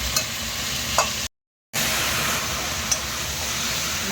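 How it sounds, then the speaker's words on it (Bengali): Chicken sautés and is stirred in a pan with cumin and coriander powder, a steady close frying hiss with faint scraping ticks, broken by a brief silent gap before resuming, no voices. "মাংসটা ভালো করে একটু কষে নেব।"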